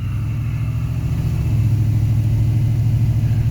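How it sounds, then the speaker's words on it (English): A 1979 Chevrolet Scottsdale truck engine revving hard and steady, a loud close rumble with rising intensity as the tire spins, no voices over it. "But yes, for those wanting to know if it'll spin a tire, it will."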